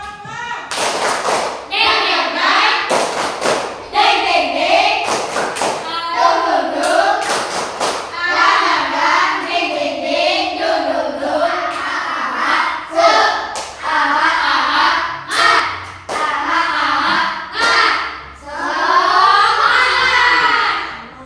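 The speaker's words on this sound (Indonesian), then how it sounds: "yuk kita berdiri lagi. Mana semuanya masih semangat? Masih semangat? Baik. Tepuk semangat." Primary school children in a classroom perform a rhythmic spirit clap, loud clustered hand claps and thumps in a patterned beat, mixed with chanting voices throughout.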